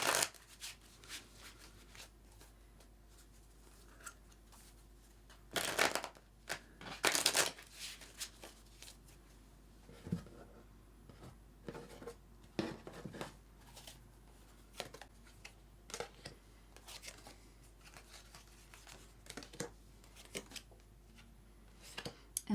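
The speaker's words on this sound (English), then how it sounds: "I'm going to grab 3 more cards just for a little bit more clarity" Tarot cards shuffled and drawn from a deck, two loud riffling bursts early on followed by scattered soft slides, taps and card snaps against a quiet room background.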